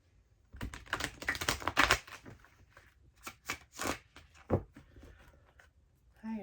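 Tarot cards are shuffled in quick riffling and tapping bursts, fairly soft and close, with brief pauses between runs.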